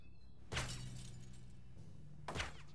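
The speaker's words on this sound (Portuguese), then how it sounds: "Eu vou tentar quebrar o vidro aqui com essa arma mesmo" Two sharp glass shatters in the video game Return to Castle Wolfenstein, glass shot out with a gun, about two seconds apart, each a bright crash with tinkling debris, over a low steady hum.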